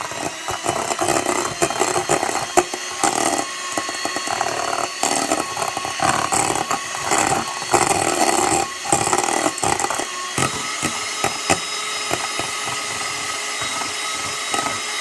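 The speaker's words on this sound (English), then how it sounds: "I'm gonna continue whisking until it becomes stiff and shiny." An electric mixer whisks egg whites toward stiff, shiny peaks, a loud, close, continuous buzzing whir that wavers and rattles against the bowl throughout.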